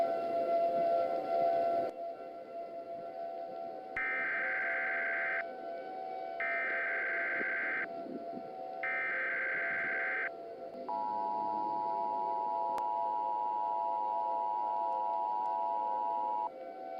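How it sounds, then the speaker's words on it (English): Emergency Alert System signalling: a harsh buzzing data burst, then three evenly spaced tone bursts, then a long steady two-tone alert tone, loud and with no voice. "And then the emergency alert system will go."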